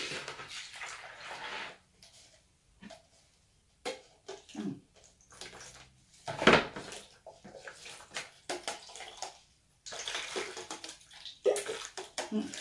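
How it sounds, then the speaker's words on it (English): A cup being washed under water: splashing and trickling come in irregular bursts with short quiet gaps, fairly soft and close, with no voices over it. "For this cup to be useful now, it has to be washed by Jesus."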